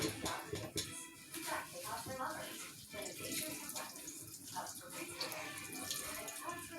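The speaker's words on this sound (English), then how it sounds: "we gotta drain every last bit of this water out of these spinach" Water drains and is squeezed out of spinach for a spinach dip, a steady running, splashing wash with some shuffling handling noise throughout, loud and close.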